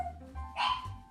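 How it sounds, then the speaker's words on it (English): A dog named Potato gives a couple of short, fairly faint barks indoors, one brief yap followed by a sharper bark, with no talking. "Sorry about the constant barking"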